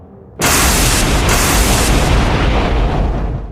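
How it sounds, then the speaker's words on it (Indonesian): A big, loud explosion erupts suddenly after a brief quiet start, then a dense, sustained roaring blast rumbles on for three seconds with no talk. "Ledakan besar langsung mengguncang ruang."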